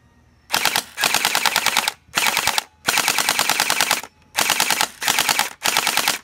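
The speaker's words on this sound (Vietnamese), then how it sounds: "bây giờ mình sẽ bắn thử vào tường cho các bạn xem nhé" A toy Groza gel blaster rifle fires full-auto bursts into a wall, six loud rapid-fire rattling strings separated by short pauses.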